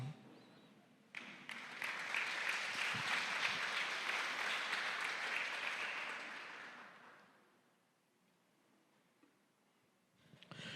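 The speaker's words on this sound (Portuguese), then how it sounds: "pode aplaudir o nome do Senhor" A church congregation applauds during a Portuguese-language worship service, a dense sustained wash of clapping that swells for several seconds, then fades away to near quiet before a faint new sound at the end.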